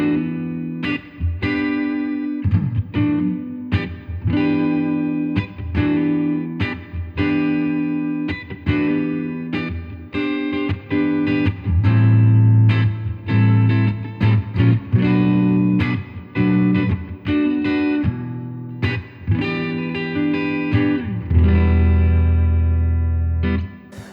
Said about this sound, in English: here's a nice clean sound. We've got a bit of spring reverb on there and a tiny bit of chorus